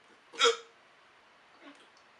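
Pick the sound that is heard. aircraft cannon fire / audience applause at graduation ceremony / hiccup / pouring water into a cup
hiccup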